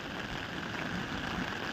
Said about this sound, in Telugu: ఇంకా కూడా వర్షం పడుతూనే ఉంది